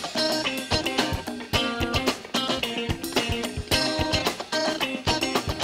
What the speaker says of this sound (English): And it's just a bunch of guitar loops at the moment.